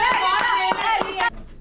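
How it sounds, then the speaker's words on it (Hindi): Audience claps for Lalita Kumari at an Independence Day celebration in North York, Toronto. A few quick, rhythmic claps sound under a loud voice, and both stop abruptly after just over a second. "ललिता कुमारी के लिए एक बार तालियां"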